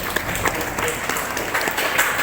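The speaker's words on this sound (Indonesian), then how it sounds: "Tepuk tangan untuk Bapak Kepala Desa." A crowd at a village carnival event in Lumajang applauds the village head, a steady wash of clapping with a few louder claps standing out.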